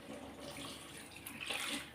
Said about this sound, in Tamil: நான் வந்து புளி ஊற்றிடலான்னு பார்க்குறேன்